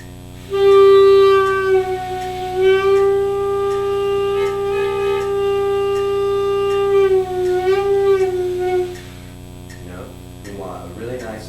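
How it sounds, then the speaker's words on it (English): A sustained clarinet tone wobbles unsteadily in pitch and loudness for several seconds, thin and unsupported, then stops; brief breathy sounds follow. "what we want is not something that sounds like this, where the tone is all wavery and unsupported."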